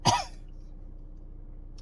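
One short, sharp cough right at the start, then quiet room tone.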